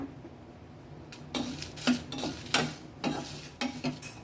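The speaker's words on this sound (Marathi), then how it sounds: "बघा आता आपले मसाले छान असे भाजून झालेले आहे." Coriander, cumin, fennel and dried chilies dry-roast in a pan, heard as soft scraping stirs and light clinks of a spoon against metal over a faint background hiss, with irregular strokes.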